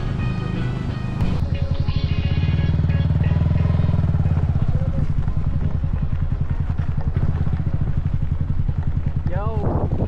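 A motorcycle engine drones steadily and close by while riding near a beach, a loud continuous rumble with some rattling, and people talk over it.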